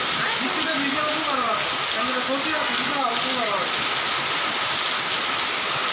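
Heavy rain pours steadily over a village in Netrokona where a coconut palm sways in the storm. The rain forms a loud, unbroken hiss from start to finish, with faint voices underneath.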